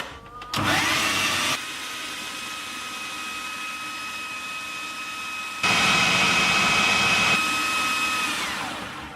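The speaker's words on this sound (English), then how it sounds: "basically going to grind it for another minute or so" A food processor grinding ingredients into flour for no-bake chocolate brownies, a steady loud whirring motor drone that rises in intensity partway through, then eases off near the end.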